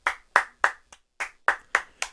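Hands clap in a quick uneven burst of about eight sharp claps, close and fairly loud, with short silent gaps between them and no talking.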